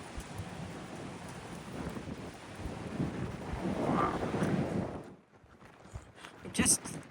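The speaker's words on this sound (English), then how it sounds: "Now it's blowing a dust storm." Dust storm winds blow across the Nullarbor in strong gusts, a broad rushing roar that swells and then drops away, with wind buffeting the microphone and voices speaking.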